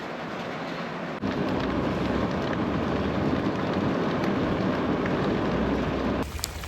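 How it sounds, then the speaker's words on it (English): Heavy pouring rain, a deluge, during an RV trip through Canada's Maritimes: a loud, dense, continuous roar of water drumming on surfaces, swelling stronger after the first second and steady until a brief change near the end. "It's pouring rain. I mean, pouring rain. A deluge."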